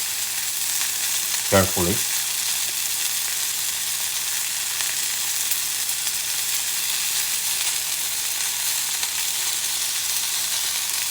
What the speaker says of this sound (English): And you let the egg cook to high heat.